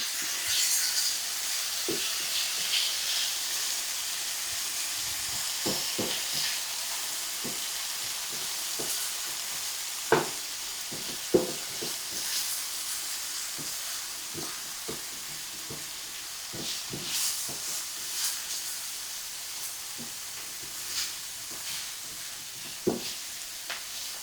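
Onions sizzle steadily in a pan with a bright, constant frying hiss, broken by occasional sharp clinks and scrapes of stirring.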